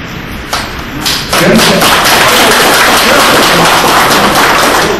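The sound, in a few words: audience applause in a lecture hall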